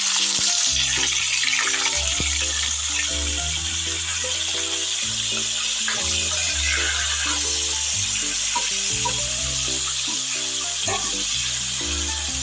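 Fish head frying in hot oil in a pan, a loud continuous sizzle and spatter, with a low tonal hum running steadily underneath.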